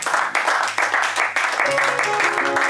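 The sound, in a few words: congregation applauding in church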